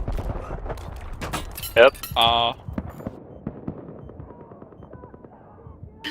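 Jackhammer weapon fire in a video game: a few rapid bursts of loud, sharp shots with distant gunfire scattered around, ending in quieter game ambience, with a brief spoken word.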